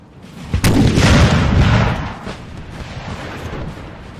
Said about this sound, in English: Austria has artillery now firing.